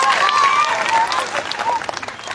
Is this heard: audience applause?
yes